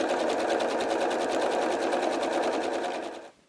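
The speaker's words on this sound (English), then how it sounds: "I'm going to chain stitch all the way through that stack." A sewing machine chain stitches steadily through a stack of fabric triangles, its fast, even needle rhythm running continuously at close range before stopping abruptly near the end.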